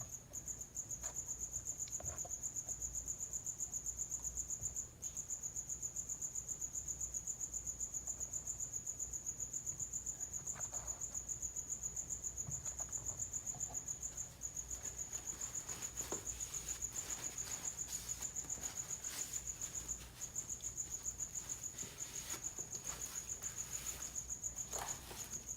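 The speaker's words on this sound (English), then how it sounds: "My little cricket's back, folks." A single cricket chirps indoors, a continuous high, steady trill running through the whole stretch, clear and fairly close, with faint background clatter and no talk.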